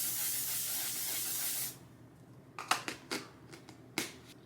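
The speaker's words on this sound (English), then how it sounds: "we're going to go back in with our setting spray and we're going to set our face again" Setting spray misted onto a face during a soft glam makeup routine: a long, steady pressurized hiss for nearly two seconds, then quiet followed by several short, close spritzes and clicks, with no talking.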